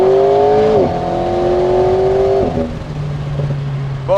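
An Alpine A110S with an aero kit and a 300 hp four-cylinder engine accelerates hard nearby, its engine note climbing loudly through several gear changes before settling into a lower drone.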